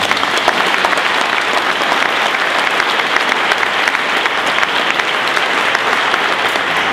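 A crowd at a public event in Gainesville, where the governor welcomes the company Mindtree, gives a dense, loud round of applause that holds steady throughout with no pauses.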